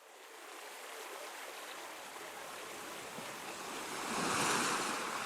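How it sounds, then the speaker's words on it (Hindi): Sea waves wash onto the shore at Jagannath Puri as a constant broad hiss of surf, swelling into a louder surge near the end, with no voices. "समंदर की लहरों की आवाज़ फिर आने लगती है"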